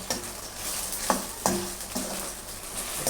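Minced meat frying in a pan with fresh red chillies, a steady close sizzle with several sharp stirring scrapes of a utensil against the pan at uneven intervals, and nobody speaking.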